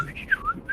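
A voice imitates the clicks and whistles of a Matoran character from a Bionicle game, giving a brief run of short, faint whistled chirps close to the microphone.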